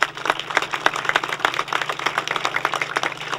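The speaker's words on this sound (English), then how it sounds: "I would like to give you a round of applause for Dermot and his committee" Scattered applause at the official opening of a sports complex, a fairly quiet, uneven patter of a modest crowd's claps that rises and falls over a few seconds.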